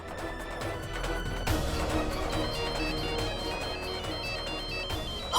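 A steady electronic ringtone plays continuously with music-like tonal patterns, fairly loud and unbroken, with no talking over it.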